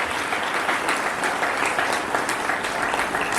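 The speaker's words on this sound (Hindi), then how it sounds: "और जोरदार तालियां हो जाए स्काउट्स के लिए" Sustained applause from a crowd at a school Independence Day event honoring scouts, dense steady clapping filling the whole stretch at even loudness.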